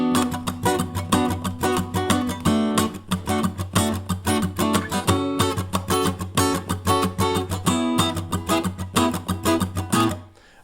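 Acoustic guitar played solo in a continuous, driving funk strumming pattern in an advanced style, mixing crisp percussive chops with ringing chords across several chord changes, close and loud.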